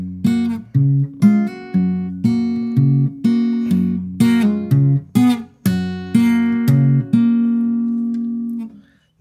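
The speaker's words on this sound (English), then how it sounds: "you're going to be doing hammer-ons and pull-offs while Travis picking like this" A fingerpicked acoustic guitar plays a Travis-picking pattern with hammer-ons, pull-offs and slides, close and clear, with repeated plucked notes that ring and decay before the last note fades out alone.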